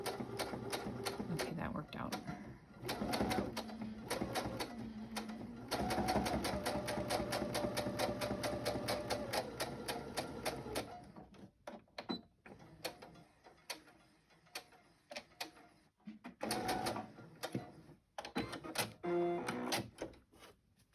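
Domestic sewing machine stitching fabric slowly, a rapid mechanical chatter running in long stretches with brief pauses, later stopping and starting in shorter bursts while someone talks over it.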